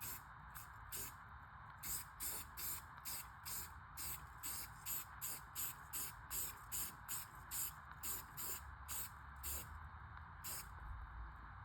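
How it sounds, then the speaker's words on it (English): A rifle is spray painted in quick, repeated hissing bursts, each under a second, spaced fairly evenly across the whole stretch and heard faintly at a soft overall level. "when you're matching unpainted to a painted, you're gonna have to do minor overspray"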